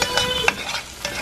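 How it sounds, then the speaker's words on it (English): A pot being scraped by a utensil, a few short, sharp scrapes over a low sizzling background, close and moderately loud. "I'm scraping a pot."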